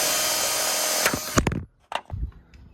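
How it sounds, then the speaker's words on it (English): A power drill bores holes through an MK6 side skirt and its mount, a loud whining burst for about a second that cuts off, followed by a few short clunks and rattles of handling. "So I got a hole drilled in the side skirt itself, a hole drilled in the mount, and another hole drilled in the bottom mount."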